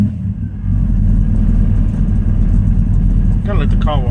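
A small-block Chevy V8 swapped into a Nissan D21 truck idles steadily and loudly at close range, a dense low rumble that runs throughout, with a brief voice near the end.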